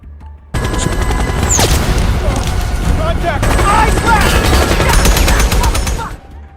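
Intense rapid gunfire crackles nonstop with bursts and loud impacts, a dense, close, chaotic film firefight that cuts off abruptly at the end.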